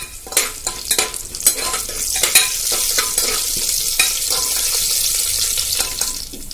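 Cumin seeds sizzle and crackle in hot oil in a pan, with scraping stirring sounds up close and a steady frying hiss throughout.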